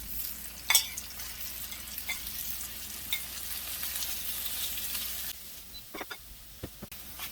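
Salmon fillets frying in butter in a pan for a salmon soup, a dense close sizzle that holds steady and then quiets, with a few scraping stirs and clicks toward the end, without talk.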